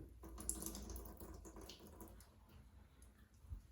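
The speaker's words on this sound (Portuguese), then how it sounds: "Eu só espremo um pouco para tirar o excesso de água." Water drips and trickles as sliced, salted eggplant is squeezed by hand over a sink, a faint, uneven liquid patter with small splashes and no talk.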